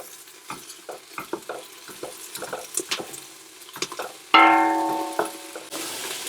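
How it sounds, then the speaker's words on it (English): Garlic fries in a pan with softened onions for a Japanese chicken curry: scattered close clicks and scrapes of stirring, then a louder sudden sizzle that keeps hissing steadily. "I'm going to add in my garlic, and I'm going to just cook that for about a minute"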